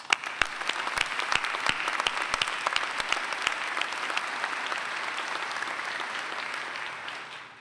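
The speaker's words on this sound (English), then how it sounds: "You certainly deserve a round of applause." A large graduation ceremony audience breaks into sustained applause, dense clapping with sharp individual claps early on, holding steady for several seconds before tapering off.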